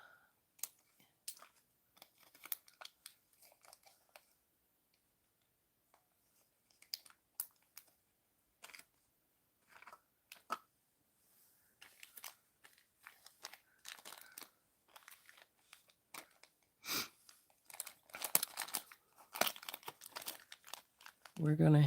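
Scissors snip and crinkle through paper while a paper figure is cut out, producing irregular soft clicks and rustles in scattered bursts, quiet and close, with a voice talking at times between the cuts.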